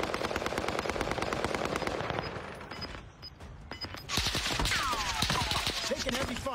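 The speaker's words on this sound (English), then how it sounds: "Taking heavy fire." Gunfire in a battle royale video game: rapid bursts of automatic fire rattle steadily, ease off in the middle, then return hard with more shots and some ringing effects.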